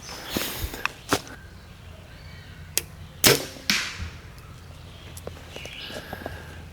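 An arrow on a steep Arkansas 3D archery course smacks into a tree with a sharp crack, amid a few scattered outdoor knocks and rustles and brief footstep-like thumps, no voices.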